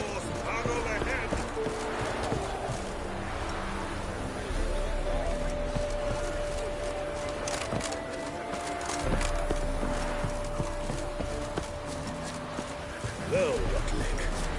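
Horse hooves clip-clop steadily in The Witcher 3 as the horse runs ahead, mixed under constant game sound, music and talk.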